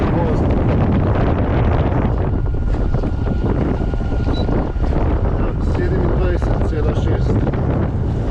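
Strong Meltemi wind roars across a sailboat motor-sailing in the Aegean Sea, a loud continuous rush and buffeting that fills the whole stretch without pause.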